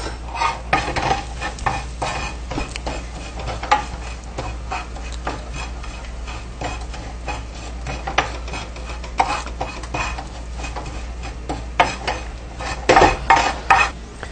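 Rice mixture stirred in a pot with a spoon for a riz royal, with asafoetida mixed in: continuous scraping and clinking against the pot, loud and close, with a faint sizzle underneath and no talk.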